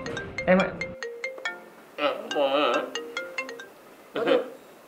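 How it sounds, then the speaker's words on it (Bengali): A mobile phone ringtone in a comedy drama scene, a melodic electronic tune playing in repeated bursts with short gaps, close and clear, with no talking over it. "অসময়ে আবার কে ফোন করলো?"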